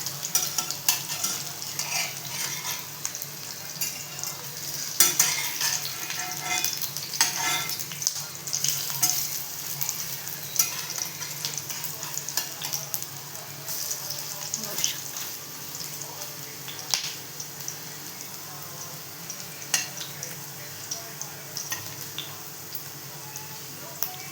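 Cabbage-leaf snacks sizzle steadily in hot oil in a pan over medium gas, with scraping clicks as pieces are flipped; a voice speaks over the frying at times.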